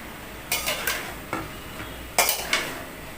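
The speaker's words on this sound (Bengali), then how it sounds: "আমি এবার সবজিগুলো সব দিয়ে দিলাম ঘিগুলো সব দিয়ে দিলাম" Vegetables and ghee being stirred in a pan, a few sharp clinks and scrapes of a utensil against the metal over a faint background hiss.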